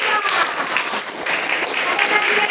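Applause for a student group in a classroom, a steady wash of clapping from the class that holds at an even level throughout, with speech-like sound mixed in.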